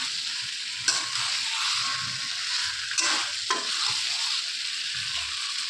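Spices sautéing together in hot oil in a pan, a loud close hiss of frying with a few sharp stirring scrapes and bursts, no talking.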